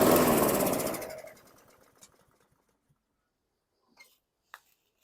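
Small Black Max lawn mower engine, a 2008 model, fires and chugs loudly for about a second, then sputters and dies away, followed by a few faint knocks in near silence.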